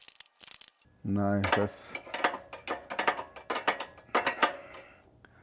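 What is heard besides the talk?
ratchet tightening motor mounts and chain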